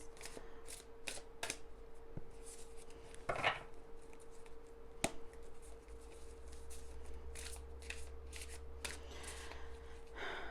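Tarot cards shuffled in several quick riffling bursts with short pauses between, close and moderately loud, over a low steady hum.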